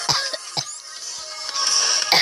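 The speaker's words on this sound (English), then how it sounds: "Coughing." A person coughs in a game-playing setting: sharp, separate coughs near the start, with a few more closely spaced, then a final burst at the end. The coughs are close and fairly loud over a steady hiss.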